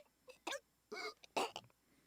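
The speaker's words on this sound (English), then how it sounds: "Wow, way to suddenly cough up a whole lot of blood." A video game character in Baten Kaitos Origins coughs up blood in short, harsh, throaty bursts, about four spasms spread over two seconds, close and fairly loud against a quiet background.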